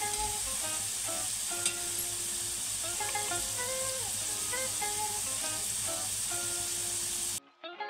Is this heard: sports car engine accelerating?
no